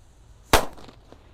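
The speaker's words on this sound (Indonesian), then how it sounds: "Lanjut ini ada mercon raja kera guys. Beldosnya juga banter, kita nyalakan bosku." A raja kera firecracker bursts with one sharp, loud blast close by, followed by a brief fading rumble and faint crackle, with no talk.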